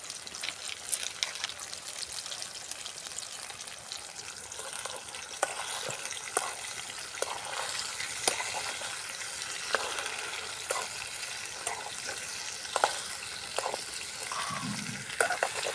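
Pepper chicken frying in a pan at a village cooking setup, a steady crackling sizzle with scattered sharper pops and occasional stirring scrapes, fairly quiet and continuous throughout.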